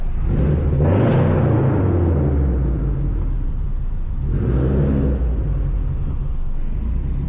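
A 350-horsepower Subaru WRX with a Tomei titanium exhaust rumbles loudly in a small parking garage, revving in a couple of sharp bursts that echo off the concrete before settling to a deep idle.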